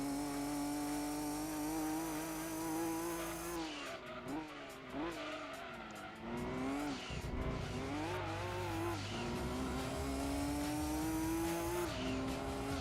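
A Nissan R390 race car engine in Gran Turismo 2 screams loud and near, with revs rising and dropping through gear changes and tire squeal mixed in.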